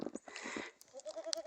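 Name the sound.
goats bleating on a farm in snow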